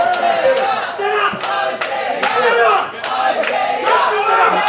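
A wrestling crowd at an openweight title match cheers and chants loudly and continuously, with rhythmic swells of rooting voices rising and falling throughout.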